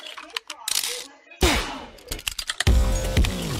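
Gunshots in the Roblox game Murder Mystery 2, fired through a wall with ice piercers: several sharp, loud cracks spaced irregularly, with brief game clatter between them.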